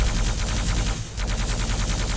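A rocket launcher fires in Quake Live, a dense, loud blast with a brief dip midway before more explosive noise, heard up close with no talking.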